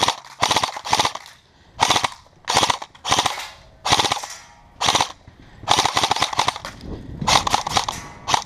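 BB gun shots fired at an outdoor shooting range, sharp snapping cracks in quick bursts and clusters, loud and close, with brief gaps between volleys and no talking.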